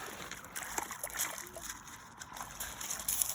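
A dog named Heidi stepping into clear lake water, with soft irregular splashes and sloshing close by, fairly quiet, amid light outdoor ambience.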